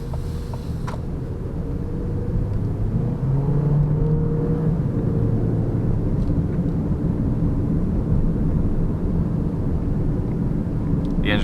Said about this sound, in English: The engine sounds good at high RPM.